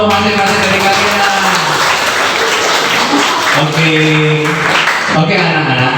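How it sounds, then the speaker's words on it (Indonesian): Classroom applause from pupils for the winning groups, a dense, steady clatter of clapping lasting throughout with voices sounding over it. "Beri tepuk tangan untuk masing-masing dari kalian."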